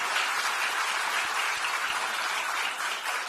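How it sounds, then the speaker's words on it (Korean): Sustained, even applause from a seated audience at a parliamentary caucus event greeting a National Assembly speaker candidate, dense and continuous with no speech over it. "따뜻한 박수 부탁드리겠습니다"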